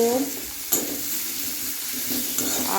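Cumin seeds and onion frying in hot oil for a Bengali fish curry, a steady close sizzle with stirring scrapes and a couple of sharp spatters, no talking.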